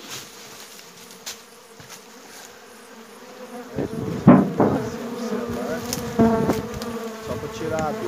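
A swarm of honey bees buzzes around a phone during a honey harvest, a steady drone close to the phone that rises into louder, nearer passes in the second half.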